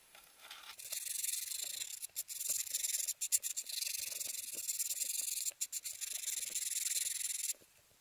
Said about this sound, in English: Now I've got some 100 grit sandpaper, and I'm going to clean up anything